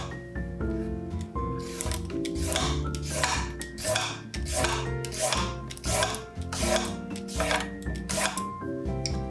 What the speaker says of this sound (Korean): 필러로 얇게 슬라이스 해 주세요